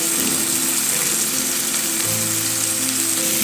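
Ground cumin and coriander powder fry in hot oil in a pan, giving a loud, steady, close sizzle that continues without a break.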